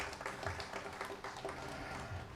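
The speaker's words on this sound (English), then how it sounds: "Give her a round of applause," Audience applause for a guest arriving at a startup book launch in Abuja, a brief burst of dense clapping from a room of people, moderately loud throughout.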